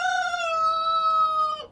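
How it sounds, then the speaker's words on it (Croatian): A rooster crows at sunrise in a single clear, sustained call of about a second and a half that drops off at the end, with nothing else around it. "Baš kada je Pijetao stao na ogrodu, ponosno otvorio usta,"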